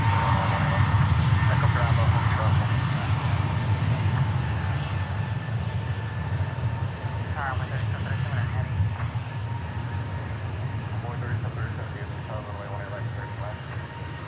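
Frontier Airbus A320 departing DFW Airport, a steady broad jet engine roar that is loudest at the start and eases slightly as it recedes, with voices talking faintly underneath.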